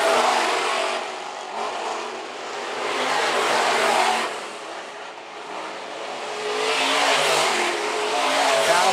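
Modified race cars run single file around a dirt track at a county raceway, their engines a loud, continuous roar that swells and fades as the pack passes, with a distant announcer faintly underneath.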